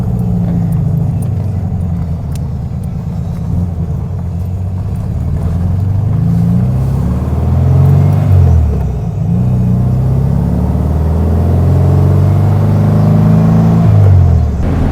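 A 1967 Volkswagen Beetle driving, its engine a loud, close rumble that rises and falls in pitch through several gear changes over about fifteen seconds.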